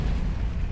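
A grenade blast in Halo 3, a loud, dense rumbling boom filling the short moment with heavy low-end roar.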